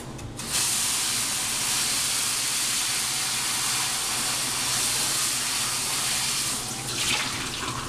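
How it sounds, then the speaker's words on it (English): Water runs from a tap over a hot Orgreenic frying pan in a sink, a steady hissing rush with steamy sizzle, starting abruptly and continuing loud and even throughout. "rinse my pan off."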